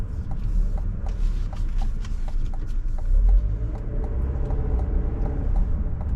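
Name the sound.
GMC Acadia Denali SUV driving during turning radius test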